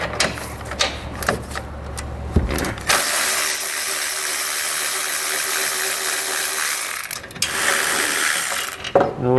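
A hand ratchet with a 13 mm socket backs bolts out of a vehicle base plate bracket, clicking rapidly at close range in bursts, with a long steady ratcheting run in the middle.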